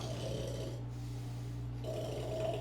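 A voice imitates a dog's snoring with a steady low rasping rumble, two drawn-out snore sounds, close and loud.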